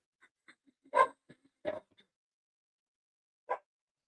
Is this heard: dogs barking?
yes